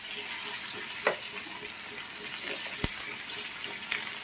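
Sea fish frying in a pan with a steady sizzle, broken by a few sharp clicks and scrapes of utensils against the pan, close and moderately loud.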